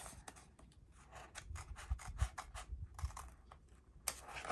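Small, very sharp scissors snip paper in a scripture journal, a quick run of close, crisp little cuts and rustles in an irregular rhythm, quiet and alone.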